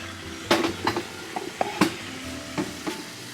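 Huckleberry greens (njamajama) with onions being stirred in a pot, a spoon knocking and scraping in several irregular strokes over a soft sizzle.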